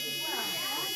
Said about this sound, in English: Just grab hold of that buzzer for me.